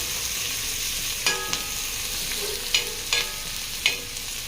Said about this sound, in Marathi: लालसर होऊ देऊ मस्त कांदा